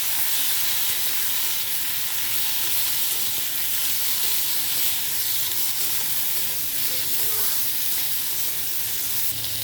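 Papaya and potato sizzle loudly in fried spice masala, a dense, steady hiss of frying that runs without a break throughout, with no talking.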